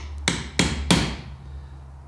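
Three light, evenly spaced hammer taps on a wood chisel make a first shallow cut, each strike sharp and close with a short ringing decay in a quiet room.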